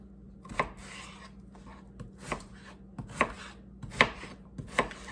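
A knife chopping unpeeled, skin-on potatoes into cubes on a cutting board, sharp irregular thuds every half second to second, close and fairly quiet with no talking.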